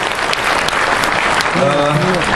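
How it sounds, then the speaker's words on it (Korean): An audience applauds in a hall after a speech by a magazine editor, with dense, continuous clapping close up and a voice briefly heard over it near the end. "큰 박수 부탁드리겠습니다"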